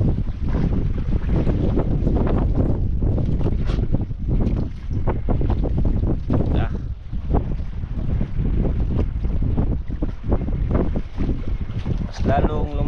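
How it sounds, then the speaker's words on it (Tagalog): Strong wind roars across the open sea aboard a small boat, a loud continuous buffeting rush with water noise beneath, and a voice briefly exclaims partway through. "Mas lalong lumakas ang hangin."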